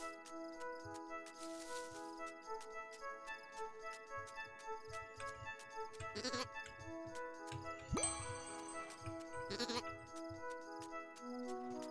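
Sheep bleating in the video game Carto: a few short bleats over a soft tinkling melodic game music bed with light ticking, the calls fairly clear and spaced several seconds apart.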